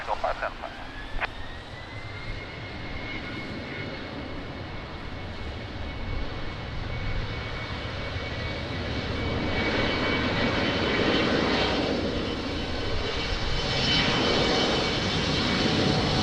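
Jet airliner engines roaring through a takeoff at Lisbon Airport in rainy weather, a loud sustained rumble that swells toward the middle and end, with radio talk heard underneath.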